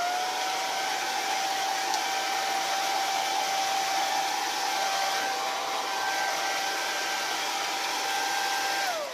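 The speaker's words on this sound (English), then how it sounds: "there's going to be a blow dryer." A handheld blow dryer runs steadily and loudly throughout, drying alcohol-based mixed media paint on a background, with a constant whine and no talking.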